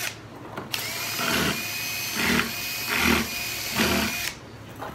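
A power drill cutting countersink holes, whirring steadily at close range with four rhythmic surges as the bit bites in, starting abruptly and stopping near the end.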